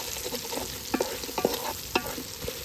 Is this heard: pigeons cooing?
no